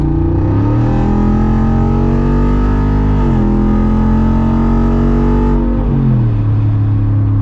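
Jeep Wrangler 392 V8 heard from the cabin while accelerating hard to pass a truck, the engine roaring through rising revs, dropping briefly at an upshift, then climbing again before easing off.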